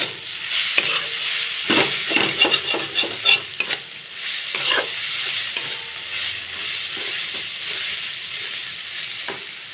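Cumin and coriander powder spices fry in a pan as a spoon stirs and scrapes in quick bursts, a soft sizzle running underneath, close and fairly quiet with no talking.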